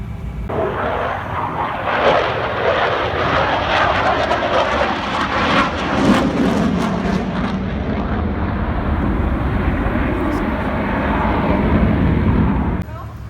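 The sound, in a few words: Boeing 737 MAX 10 flying at Paris Airshow 2023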